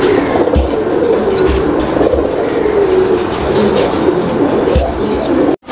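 Pigeons at a busy pigeon market, cooing and fluttering amid a dense constant crowd hubbub, with occasional low thumps and near clatter throughout.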